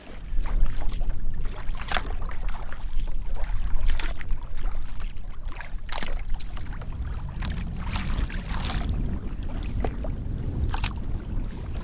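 A solo kayak is paddled across lake water in Algonquin's wilderness, with close, repeated splashes and trickles from the paddle strokes over a steady low water rumble and no talking.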